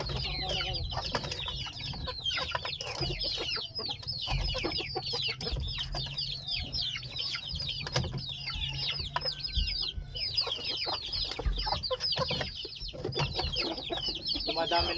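Native chickens cluck and chatter throughout in a backyard behind a house, a dense flock of overlapping calls with a steady low hum underneath.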